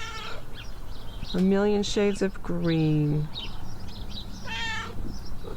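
A pet cat meows several times in a row, close and clear, with drawn-out harmonic calls, while someone talks in the background.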